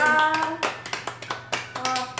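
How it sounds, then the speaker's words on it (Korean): A few quick, crisp hand claps sound close by during a casual livestream celebration, coming in short bursts after a brief sung tone, with light talk around them. "일단 박수 한번."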